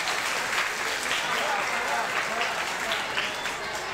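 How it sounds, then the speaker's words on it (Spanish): Audience at a school music recital breaks into sustained applause, a dense continuous clatter of many hands clapping steadily at moderate volume for the full four seconds, with faint voices mixed in. "Otro fuerte aplauso para el grado undécimo."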